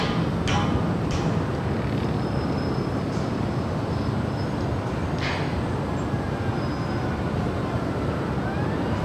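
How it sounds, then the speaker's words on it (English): A Delta Airbus A220-100 jet departing Los Angeles airport, a steady broad roar at a distance with faint chirps and whines over a rumbling low end. "That is Delta 1440 departing to Portland."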